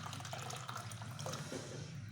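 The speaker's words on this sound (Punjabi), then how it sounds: "ਹੁਣ ਗਰਮ ਪਾਣੀ ਪਾਉਣਾ" Hot water poured into a bowl that already holds cold water and lemon, a soft, steady trickle and splash heard faintly and close by, with no talk.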